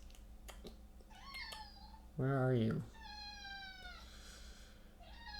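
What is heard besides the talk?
kitten meowing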